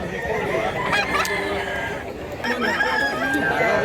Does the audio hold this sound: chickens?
yes